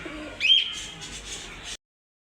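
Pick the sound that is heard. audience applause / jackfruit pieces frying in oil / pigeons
pigeons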